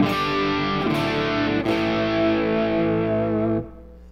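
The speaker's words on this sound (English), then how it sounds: "Now here is the sound of the guitar" A sustained, distorted electric guitar chord rings out through a Line 6 Helix effects processor with its FX loop bypassed, shimmering with modulation before cutting off abruptly.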